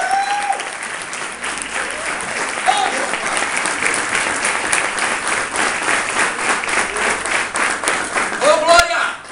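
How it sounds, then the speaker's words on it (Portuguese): A church congregation breaks into sustained applause during a Portuguese-language sermon, a dense, loud wash of many hands clapping that holds steady for several seconds. Voices and cheers rise now and then within it. "Aqueles que concordam, digam amém e aplaudam o Senhor."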